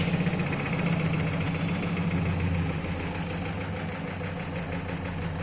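An automatic washing machine's drum keeps turning after the main motor is switched off, giving a steady mid-pitched mechanical hum with a faint vibrating rattle that stays even and continuous throughout.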